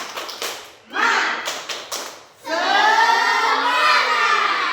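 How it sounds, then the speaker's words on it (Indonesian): A classroom group performs a rhythmic spirit clap in quick patterned bursts, followed by loud unison shouting from many children. "coba sekarang kita buat dulu tepuk semangat bersama-sama"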